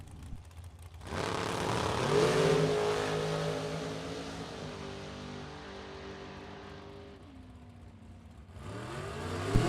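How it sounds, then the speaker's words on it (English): A supercharged dragster launches down a drag strip at a bracket racing event, its engine roaring loud and close, then fading with falling pitch as it passes and pulls away, with another engine rising at the end. "And the supercharged Dragster right-hand side, 447 dial-in for Chris Sullivan."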